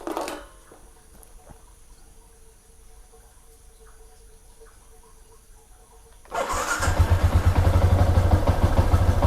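After several quiet seconds of faint clicks and hum, a motorcycle engine cranks and catches, then settles into a loud, steady, close-up running putter.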